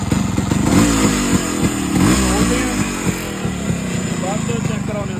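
Yamaha RX135 motorcycle engine, just fixed after kick-start trouble, idles close by with a steady throbbing putter and a few throttle blips over the first seconds.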